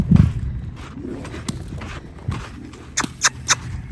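A loose horse moving about during ground training, scattered soft hoof thuds on the ground followed by a few sharper, louder clops near the end.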